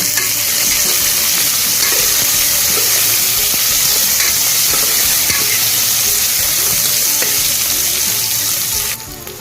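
Chicken curry ingredients with green chillies and capsicum sizzle steadily in a pan, with faint stirring scrapes throughout, loud and close.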